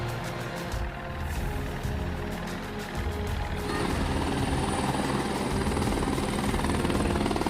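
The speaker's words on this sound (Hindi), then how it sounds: "पहली बार विश्वामित्र सेना द्वारा हेलीकॉप्टर से पुष्प वर्षा कर नगरवासियों और श्रद्धालुओं को एक दिव्य अनुभूति प्रदान की गई" A helicopter flies over Buxar during a Ram Navami celebration, showering flowers on the crowd; its steady rotor chop and engine whine grow louder and fuller partway through, with no talk.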